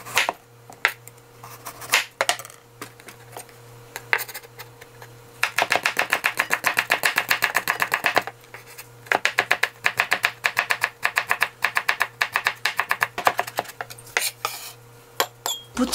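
Rapid knife chopping of vegetables for a seasoned cockle sauce, likely green onion, chives or carrot, fast crisp taps on a cutting board in quick bursts with brief pauses, close and loud.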